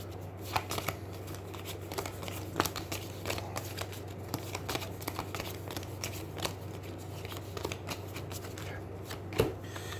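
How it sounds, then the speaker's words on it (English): A deck of cards for the Aeons End board game being shuffled by hand, a long run of close, crisp riffling and flicking with quiet steady hum underneath and no talking. "So this just needs to be shuffled."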